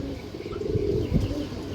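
A large male pigeon with a green neck, black wings and tail, and dark purple feet coos close by in a low, steady murmur. The sound runs unbroken through the short span with no talk over it.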